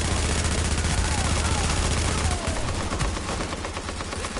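Dense, continuous automatic gunfire in the video game The Division, loud and sustained throughout with no breaks.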